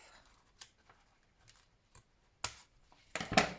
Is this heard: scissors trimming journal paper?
yes